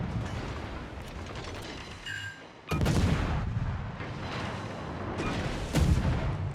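Destroyer guns on the Polish Tier 10 Gdansk fire in World of Warships, heavy booming salvos that roll into a long rumble, with a second blast later over a continuous din of battle.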